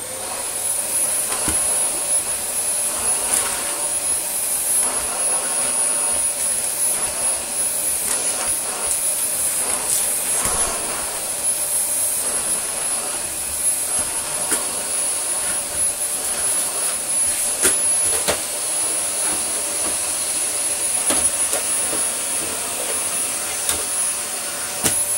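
A Dyson vacuum cleaner with a flat out head runs over mixed flooring, giving a loud continuous whine with a high pitched tone and small shifts as it moves across surfaces.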